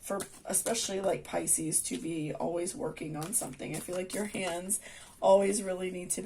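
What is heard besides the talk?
None of the usual background noises is heard.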